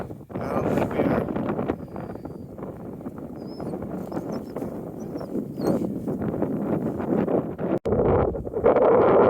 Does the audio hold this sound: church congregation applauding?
no